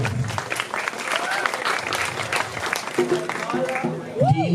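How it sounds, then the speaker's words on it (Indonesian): A crowd at a Balinese calonarang temple performance at Pura Dalem Brerong applauds the gamelan players. The clapping is dense and close, with voices and a brief tonal sound rising over it near the end. "tepuk tangan numun untuk penabuh"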